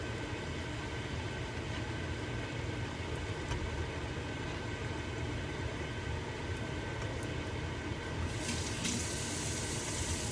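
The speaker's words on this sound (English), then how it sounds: "I like to rinse my knife and my cutting board after tomatoes" A knife and cutting board rinsed under a kitchen tap: a continuous close rush of running water with a broad low rumble, growing brighter and splashier near the end as the stream hits the items, no talking.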